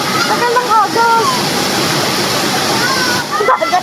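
A mountain waterfall roars in a steady broadband rush, close and loud, while voices call out intermittently over the water.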